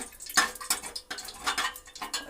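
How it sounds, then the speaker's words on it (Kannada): Mustard seeds dropped into a pan for tempering a pepper rasam, a few close clinks and rattles with brief splashy bursts, no talk. "ಸಾಸಿವೆ ಹಾಕ್ತಾ ಇದ್ದೀನಿ ನೋಡಿ"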